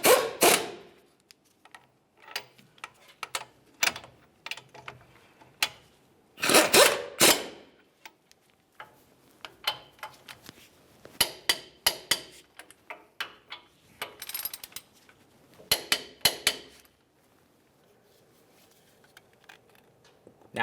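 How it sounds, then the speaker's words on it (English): Torque wrench tightening the lower control arm bolts on a 2005-2010 Dodge Dakota front suspension, giving sharp intermittent clicks and ratcheting ticks in irregular bursts, close and clear, with quiet gaps between. "Now we can snug them up and torque them to 130 foot-pounds."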